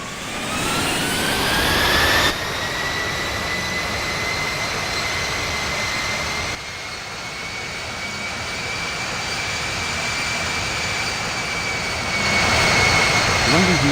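A jet airliner takes off from runway 27 left at London Heathrow: a loud, sustained engine roar with a high whine that rises and steadies, with a few abrupt shifts in level.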